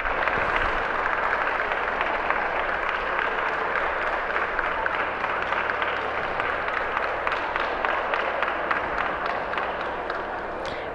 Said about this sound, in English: Nice round of applause for our first junior in the ring today.